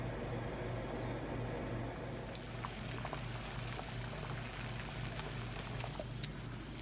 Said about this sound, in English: the water is boiling for our noodles